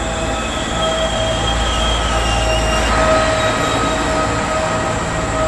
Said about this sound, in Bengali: ধাতব আওয়াজের ঝংকার তুলে প্ল্যাটফর্মে এসে দাঁড়ালো ট্রেনটা।